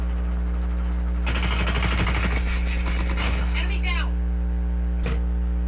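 Automatic gunfire from the mobile shooter Call of Duty Mobile rattles in a rapid burst lasting a couple of seconds, followed by a single sharp shot, all over a constant game hum.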